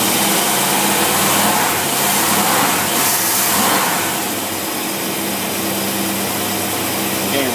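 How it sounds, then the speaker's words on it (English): An old Buick engine fitted with a Carter AFB carburetor runs close by with a full, steady roar that swells slightly then eases to a smoother hum; no clear talk. "Old motor there."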